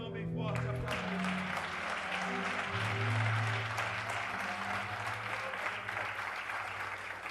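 A church congregation applauds strongly and continuously, with a dense wash of clapping under sustained tones and some voices mixed in.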